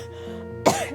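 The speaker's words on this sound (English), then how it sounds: "that's when I have a random cough" A single short cough bursts out over a steady low background hum, close and fairly loud, lasting well under a second.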